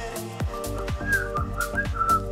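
A short whistle sound effect used as a show segment cue: a few quick, bright whistled notes with a lilting, rising-and-falling pitch, heard alone.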